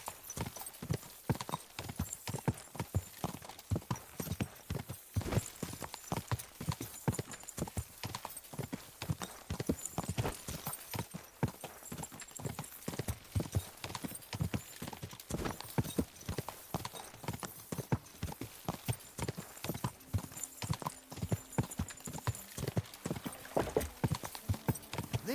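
A horse's hooves clip-clop steadily in Kingdom Come Deliverance 2, a fast, continuous run of dense hoofbeats lasting throughout, fairly quiet overall with little else heard.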